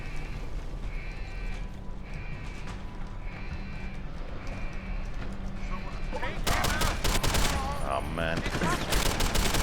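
Gunfire in the stealth action game Deus Ex: Human Revolution Director's Cut, a dense clattering burst of shots erupting loudly after repeated alarm-like tones, with a man briefly exclaiming.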